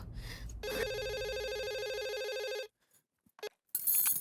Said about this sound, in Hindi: मैं माधु को फोन करके बोल देता हूँ